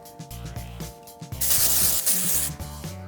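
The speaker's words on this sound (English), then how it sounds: "we're gonna take either a dry shampoo or a texturizing spray, and we're just gonna spray the roots." A loud, steady hiss of aerosol dry shampoo sprayed onto hair roots lasting about a second, following quieter rubbing and handling noises.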